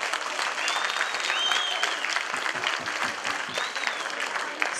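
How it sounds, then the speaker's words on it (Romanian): Live audience applause at a Romanian ceremony honoring a professor, a steady dense clapping wash that holds for the whole span, fairly loud with a faint crowd murmur beneath. "eu propun să-i aplaudăm mai cu inimă"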